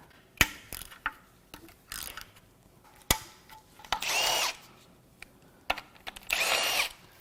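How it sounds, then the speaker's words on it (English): A ratchet spins in quick whirring bursts while bolts come out of a BMW N55 engine during a teardown, with sharp metallic clicks and clanks of tools between the bursts. "let's get the ratchet"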